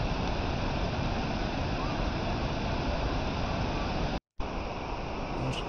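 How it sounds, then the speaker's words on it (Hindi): A cold mountain waterfall at Manimahesh pours and splashes over a Shiva lingam, a loud, dense, continuous roar filling the clip close to the listener, with one brief dropout near the end. "झरने का पानी शिवलिंग से टकरा के नीचे जाता हुआ।"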